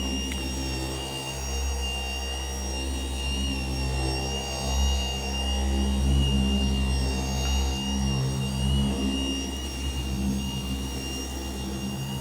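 A Shinemate EB212 3-inch dual action polisher runs continuously with a steady, fairly loud droning whine, with no talking.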